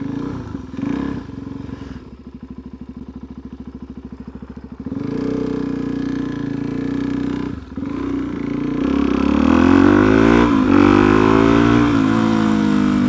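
Single-cylinder engine of a Suzuki DRZ400SM supermoto motorcycle while riding on the road, a steady close thumping drone that rises in pitch as it revs and accelerates, with brief dips between gear changes and no talk.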